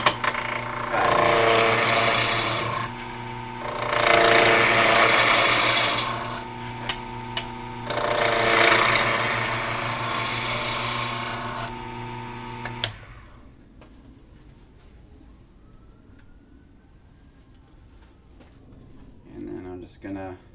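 A lathe gouge cuts a square wood blank into a cylinder, giving a steady rough rasping roar with a hum beneath it that swells in a few waves for about thirteen seconds and then stops, leaving quiet room tone with a brief clatter at the end.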